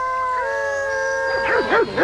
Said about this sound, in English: don't be surprised when you hear him howl